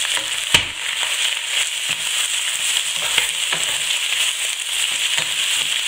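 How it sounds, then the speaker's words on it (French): Chopped onion and lardons fry in a pan with a constant bright crackling sizzle, broken by occasional sharp pops and light stirring clicks. "je vais rajouter mon oignon que j'ai émincé en petits morceaux. Je vais également rajouter les lardons et je vais faire encore colorer pendant environ 5 minutes."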